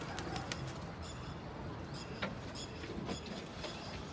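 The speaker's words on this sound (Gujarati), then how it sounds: "તો આપણે આ નવા કબૂતર લઈ આવી ગયેલ છે" Pigeons cooing among other birds, low soft coos under a dense bed of chirps and background noise, with occasional sharp clicks; no talking.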